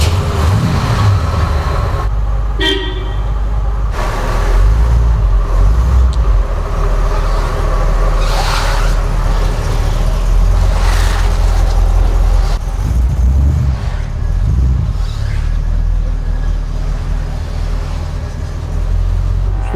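A 7.5-litre V8 in an Oldsmobile Toronado idles steadily inside a garage, a deep continuous rumble that holds throughout, with a few brief clanks and knocks over it.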